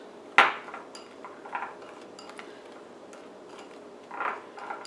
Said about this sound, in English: my salt and pepper, and then I'm just going to mix them together.